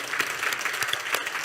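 A church congregation claps in welcome for a missionary returned from France, a dense burst of steady, close applause filling the room throughout.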